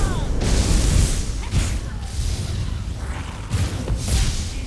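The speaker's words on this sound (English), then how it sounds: "Get that spectral explosion." Spectral explosion spell in Elder Scrolls Online during a sorcerer pet build fight in a combat arena: dense booming blasts and whooshes repeat in loud bursts over continuous heavy game noise.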